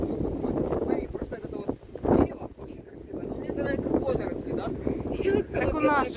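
Low rumbling wind buffeting a microphone outdoors on a beach in Abu Dhabi, steady and blustery, with people talking over it.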